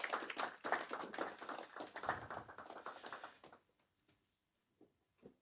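A conference audience applauding the president, a burst of brisk clapping that fades out after about three and a half seconds, leaving near silence with a couple of faint taps.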